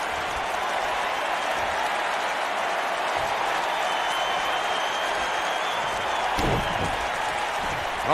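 A wrestling arena crowd in the WWE 2K19 video game roars and applauds continuously, a dense, steady wash of cheering with a brief thump partway through.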